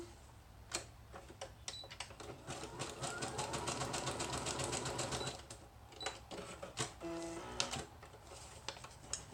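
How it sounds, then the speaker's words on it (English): A sewing machine stitches along the two sides of a paper pocket for a junk journal, its needle running in a steady rapid patter for several seconds, close and fairly quiet, with brief pauses and stops near the end. "Sew those two sides closed, and I'll show you when I'm done what I did."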